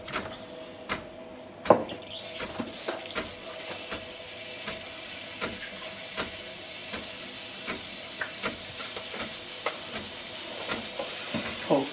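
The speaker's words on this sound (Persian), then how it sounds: "قدرت بخار یک نواخت شد و من اینو مستقیم میبرم که شیرم نپاشه بیرون." Home espresso machine steam wand frothing milk for a latte macchiato, a steady loud hiss that builds after a few sharp clicks and knocks, then holds continuous and even with no talking.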